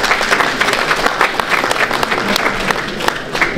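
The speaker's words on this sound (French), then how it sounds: "on peut l'applaudir" Applause from an audience at a New Year's greetings ceremony in Haguenau, a dense, steady roar of many hands clapping that holds loud and unbroken from start to finish.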